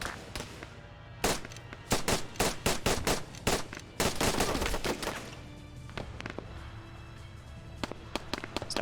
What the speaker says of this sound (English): We're hearing the marshal starting to fire at units around.